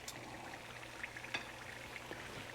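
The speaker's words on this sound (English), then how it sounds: "So basically what we're frying right now is going to be the inside of that shell." Taco shell insides (chalupa dough) frying in hot oil in a home kitchen, a faint, steady sizzle with a few soft pops and crackles, no talking.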